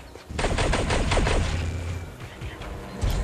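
Rapid automatic gunfire in the VR video game Zenith, a dense burst of sharp, closely spaced shots lasting over a second, then scattered lighter shots and a final crack, with no talking.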